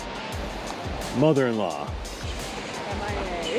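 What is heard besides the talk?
waterfall at Wahkeena and Multnomah Falls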